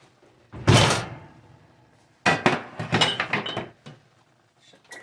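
A baking pan of biscuits comes out of a kitchen oven: one loud metallic clank and thunk, a quiet gap, then a longer burst of rattling and clinking metal that fades into silence.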